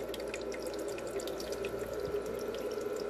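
A Tramontina portable ice maker draws in water for a new ice cycle, giving a steady, quiet trickle and gurgle over a constant low motor hum, with small drips scattered throughout.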